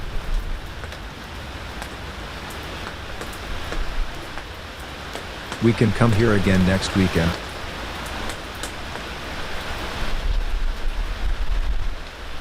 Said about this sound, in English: but it has started raining